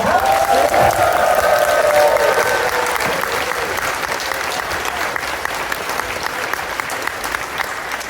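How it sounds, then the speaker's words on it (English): A large crowd claps loudly at the ConFuzzled 2024 convention closing ceremony, with cheers and whoops in the first couple of seconds. The dense, sustained applause then settles into a steady roar that fades slightly toward the end. "a massive round of applause and a big cheer for"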